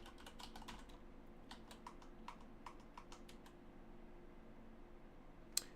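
A password typed on a computer keyboard while logging in as root, a quick run of soft key clicks in two bursts, then a pause and one sharper tap at the end, faint and without talk.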